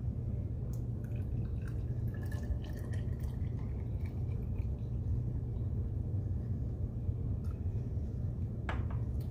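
Hot water being poured into a container for a science experiment, a low steady pouring rumble with faint dripping and trickling over it, quiet and continuous.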